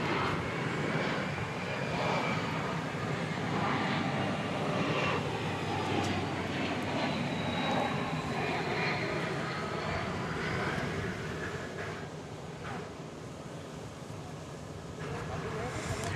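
An aircraft taxiing and turning onto runway 18 left at DFW Airport produces a continuous engine rumble and whine at middle distance, with a voice speaking over it throughout.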